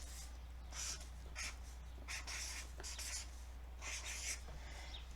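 Marker or chalk writing on a board during a math lesson: several short bursts of scratchy strokes, moderately near, over a steady low hum with no talk.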